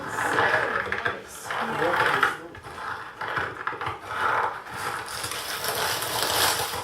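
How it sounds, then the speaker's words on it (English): Rhythmic crunching steps on snow, repeated compressions at a steady walking pace, fairly close and continuous. "this is like walking on snow. It's stepping on snow"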